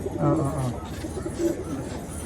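A racing pigeon in its loft gives low, rolling coos up close, a few soft phrases over about two seconds with little else around.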